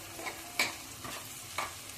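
Crushed garlic chutney is stirred into hot oil for dal fry, a soft low sizzle with a few quick spoon scrapes against the pan.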